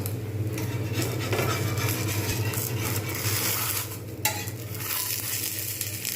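A spatula scrapes and lifts a rice-flour patishapta pitha from a frying pan over a steady, close sizzle, with scattered metallic scrapes and taps against the pan.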